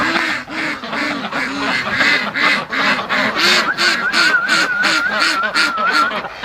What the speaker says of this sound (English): the ducks are exploring their pen